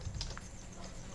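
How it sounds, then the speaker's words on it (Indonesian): Close keystrokes on a computer keyboard while a web address is typed, a few quick taps spread over about a second with no voice over them. "kita ketik lagi"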